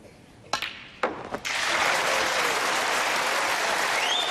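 A snooker crowd breaks into sustained applause and cheering as Ronnie O'Sullivan finishes a century break by potting the pink, after a few sharp clicks of the balls.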